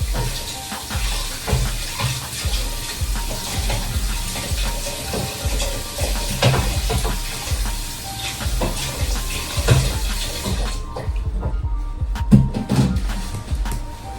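Chicken being mixed by hand in a bowl with Chinese spice marinade, making close, wet squelching and rustling sounds in irregular bursts, with a brief clatter near the end.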